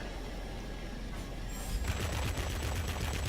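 Aircraft cannons on a Messerschmitt Me P 1101 fighter jet in World of Warplanes fire in a fast rhythmic stutter of bursts. The rapid fire starts partway through under steady engine noise and stays fairly soft in the mix.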